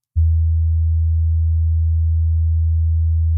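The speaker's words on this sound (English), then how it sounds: "went from a sawtooth to a sine wave" A synthesizer oscillator switched from sawtooth to sine wave plays one steady, loud, pure low tone for about three seconds, alone and without talk.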